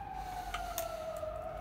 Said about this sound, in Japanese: 外でサイレンが鳴り響き渡ってますけど